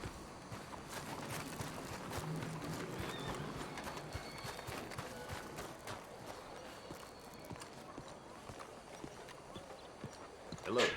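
Horse hooves clip-clop in the Red Dead Redemption 2 video game, a steady walking rhythm running through the whole stretch under a busy game soundscape, with a brief louder burst at the very end.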